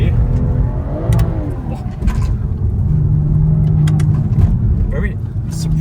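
A BMW M340 sedan accelerates hard, its engine rising in a steady, loud rumbling drone heard from inside the car while a person talks over it.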